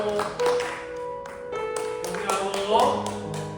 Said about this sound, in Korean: 박수로 영광 올리고